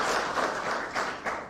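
Applause from a crowd at a political rally during a memorial for Mwai Kibaki, a dense steady patter of many hands with a couple of brief swells, loud and close, with no voices over it.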